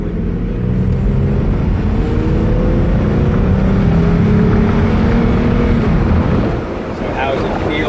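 A 2017 Ford Mustang V6 with 13,000 miles, idling steadily after an engine flush and oil change, a smooth low hum with faint whine under light wind noise, dipping briefly near the end.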